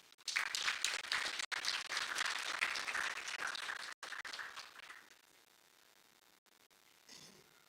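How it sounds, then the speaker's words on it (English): An audience at a film expo applauds a speaker being welcomed to the podium. The dense clapping is steady for about five seconds, then drops to a thin scattering of claps that fades out. "can we give him a warm round of applause?"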